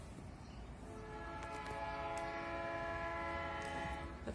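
A long freight train of nearly 100 cars sounds its horn for a crossing in a long, sustained multi-tone blast over rumbling rail noise, faint and distant at first, then growing steadily stronger.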